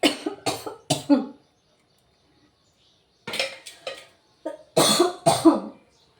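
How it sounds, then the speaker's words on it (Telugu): A series of harsh coughs sounds nearby, three or four in a quick burst, then a pause and another cluster of loud coughing. "దగ్గు వస్తుంది"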